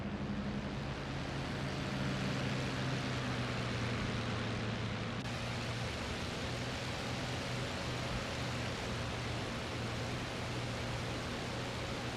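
Steady engine drone of a C-47A transport plane in a flight combat video game, a continuous broadband roar with a low hum that holds level for the whole stretch, no voices.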